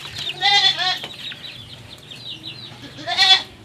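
Chickens clucking in short bursts, a couple of louder calls at the start and end with softer clucks in between, fairly close by.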